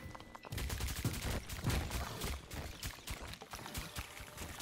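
Rapid, dense barrage of kinetic spheres firing in Dome Keeper, a crackling fusillade of overlapping shots that runs steadily for several seconds at moderate loudness.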